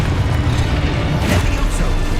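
A spell blast from Expulso, the explosion spell in the video game Hogwarts Legacy, comes as a burst of noise with a deep rumbling low end, loud and close. It sits inside a dense, busy game soundscape.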